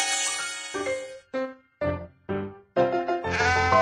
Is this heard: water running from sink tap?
no